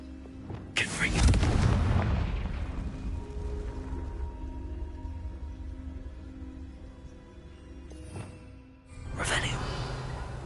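Confringo fire-blast spells in Hogwarts Legacy on PS5 land as two heavy booms several seconds apart, each trailing into a rumble, with a voice speaking between them.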